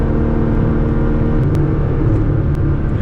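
Nissan GTR engine pulling hard under acceleration from inside the car, a loud, steady, dense roar holding throughout.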